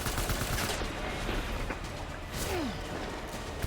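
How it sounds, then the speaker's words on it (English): Assault rifle fire in a Death Stranding boss fight, with rapid, dense shots rattling on continuously amid whooshing battle noise. "Assault rifle."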